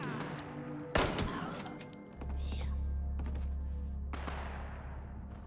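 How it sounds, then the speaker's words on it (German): Gunfire in the video game Fallout 76: one sharp, loud shot cracks out, then a low in-game hum drones on until a second, fainter burst of shots near the end. "Hier wird auf jeden Fall geschossen."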